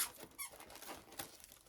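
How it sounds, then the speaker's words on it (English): Dog's squeaky toy giving a few faint, short squeaks at irregular intervals over quiet rustling. "Uh-oh, we have a squeaky toy."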